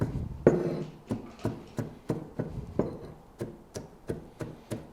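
A knife chops fresh garlic on a metal board in a steady series of about eleven sharp, close knocks, one louder strike near the start and the rest evenly spaced.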